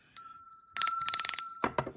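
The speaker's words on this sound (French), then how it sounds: "Et ça permet de sonner cette cloche." A small bell rings in short bright metallic bursts: a single light ding, then a rapid cluster of rings, then a final sharper strike, close and clear with no talking.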